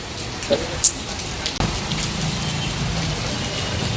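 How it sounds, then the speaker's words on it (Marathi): Steady heavy rain pours down in a dense, constant hiss, with a few brief knocks near the start and no voices. "बघा कसा पाऊस पडतोय"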